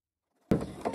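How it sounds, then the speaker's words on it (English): A sewing machine runs a zigzag stitch on a DIY zippered pocket. Half a second of silence gives way to a sudden, loud, steady motor whir that holds close and continuous to the end. "we will get started here with a zigzag stitch"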